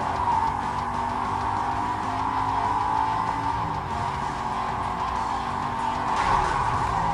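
Street race cars in Need For Speed Most Wanted 2005, a steady loud engine drone with tire skidding and squeal layered over a constant road rumble, close and continuous.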